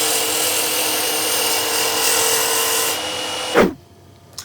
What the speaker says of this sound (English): just make a really nice, slow, controlled finishing cut